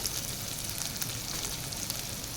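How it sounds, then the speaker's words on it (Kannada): Green chillies fry in a pan for chicken chilly, giving a dense, even sizzle and crackle that holds steady and close throughout the brief stretch, with no voices. "ಗ್ರೀನ್ ಚಿಲ್ಲಿಯನ್ನು ಹಾಕ್ಕೊಳ್ಳೋಣ, ಹಸಿಮೆಣಸಿನ್ಕಾಯಿ. ಅದೊಂದು ನಿಮಿಷಷ್ಟು ಈ ಥರ ಫ್ರೈ ಮಾಡೋಣ"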